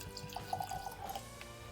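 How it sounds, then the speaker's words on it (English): Russell's 15 bourbon is poured into a glass, giving a short liquid trickle with a few gurgling drips, faint and close over a quiet room background. "That's a heavy pour."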